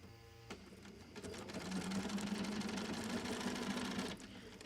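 A sewing machine stitches an appliqué pattern in a close, rapid mechanical whir with a steady hum, running about three seconds between a few clicks and handling sounds.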